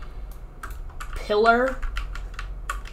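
Rapid clicking of fingers typing on a computer keyboard during Minecraft gameplay, close and crisp in irregular bursts, with a voice speaking briefly over the middle.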